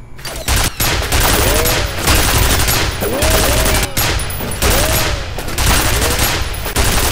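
Continuous, dense automatic turret fire from the game F.E.A.R. hammers loudly and without pause, with whooshing sweeps and ricochet-like whistles laced through the barrage.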